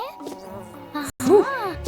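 A bee in a cartoon buzzes in short bursts with a brief silent gap midway, close and fairly loud, with some voice-like tones mixed in.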